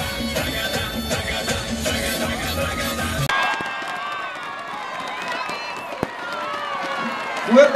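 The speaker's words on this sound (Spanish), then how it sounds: "Fuerte el aplauso que está." A dense crowd roars and cheers at the Barranquilla carnival comparsa parade, loud and continuous, then shifts to a quieter stretch with scattered shouts, whistles and a sharp knock.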